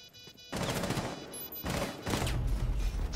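Gunfire in Rainbow Six Siege, two loud bursts of rapid automatic shots close by, separated by a short pause and rising out of a quiet start, with no talking.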